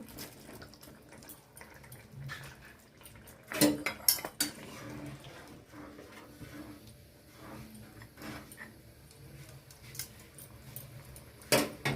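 Fried paneer cubes tipped into a pan of simmering masala, with metal utensils clattering and knocking in a few sharp bursts over a low background of kitchen noise.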